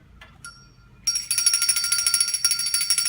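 A small altar bell rings fast and continuously, making a bright, shimmering metallic trill that comes in loud after a few faint tinkles and keeps ringing to the end.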